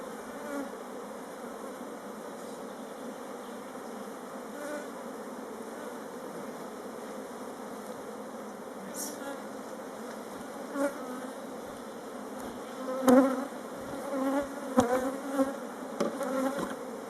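A honeybee swarm buzzes steadily as it is transferred into a hive, a dense continuous hum with a few louder individual bees passing close near the end.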